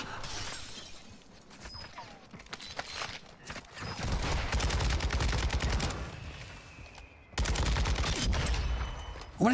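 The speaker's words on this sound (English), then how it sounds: "Stop shooting at me." Gunfire in the Warzone video game crackles in rapid bursts from an SMG, with dense automatic fire and sharp impacts that alternate with brief quieter gaps, close and loud.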